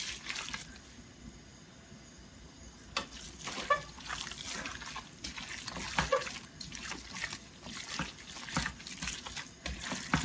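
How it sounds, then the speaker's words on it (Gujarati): Tap water runs and trickles into a plate while preparing khima, with intermittent splashing and dribbling bursts close by, no talk. "થાળીમાં થોડુંક બીજું પાણી નાખીશ એમાં"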